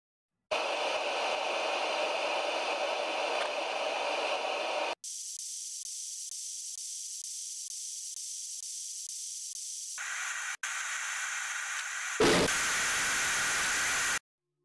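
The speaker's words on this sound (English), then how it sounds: "The audio resembles TV or radio static, dramatically amping up when the camera shows the soldier's face." Harsh TV or radio static from a TF2 ARG video, a loud continuous hiss that cuts abruptly between different textures and intensities, swelling louder near the end.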